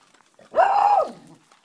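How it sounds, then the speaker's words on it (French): A single dog lets out one drawn-out, whining bark close by in a quiet home, rising and falling over about half a second before fading to near silence. "Alors lui, il aboie tout le temps."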